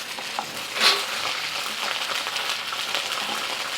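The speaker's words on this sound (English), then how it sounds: "I'm going to stir fry this for about 2 to 3 minutes until the vegetables are tender" Onions and peppers stir-frying in a pan: a steady, close hiss and sizzle with soft crackles throughout and one brief louder spatter near the start, heard with no talking.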